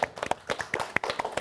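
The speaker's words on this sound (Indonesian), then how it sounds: "Tepuk tangan dulu dong untuk teman kita." Classroom clapping during a math lesson for a classmate who answered correctly; a small group's sharp, uneven hand claps, close and distinct, over about a second and a half.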